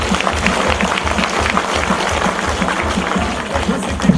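Audience applause at a sanatorium cooking-festival performance, a continuous full crowd of clapping at steady volume throughout, with a low rhythmic thump underneath.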